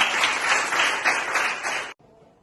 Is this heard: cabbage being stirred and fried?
no